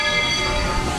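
A Walt Disney World Railroad train rolls slowly along the track, giving a steady, close rumble of wheels and carriages throughout with no voices.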